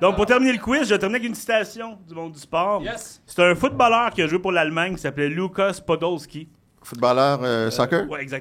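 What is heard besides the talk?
None of the usual background noises is heard.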